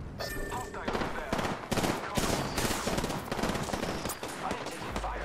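Rapid automatic gunfire from the Apex Legends shooter game, dense bursts of close, loud shots with short pauses, plus a few sharper single reports and faint game sounds mixed in.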